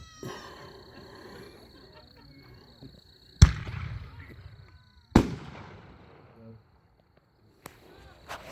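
A silver brocade firework shell with red strobing pistol bursts in two sharp, loud reports a couple of seconds apart, each trailing into crackling decay, with a fainter pop later; a voice talks faintly early on.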